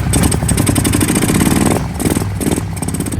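A cheap Kawasaki 4x4 ATV engine with freshly refitted carburetors idles loud and close, its steady chug broken by slight stumbles from a lingering misfire.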